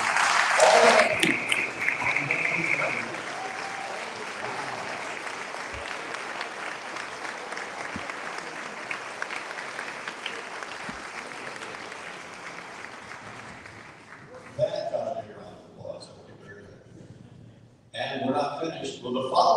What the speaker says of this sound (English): So now, all of our educators, would you please stand up for a round of applause?